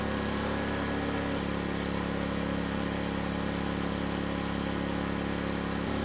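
Erayak 4500PD dual fuel inverter generator running on gasoline under load, a steady, loud engine drone with constant mechanical hum and no pauses.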